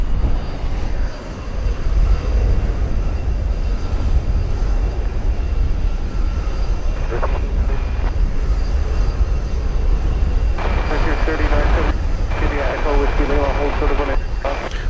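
An Airbus A300 airliner at DFW Airport roars steadily and loudly throughout, a broad continuous engine rumble with a brighter whining texture building toward the end, no talking heard.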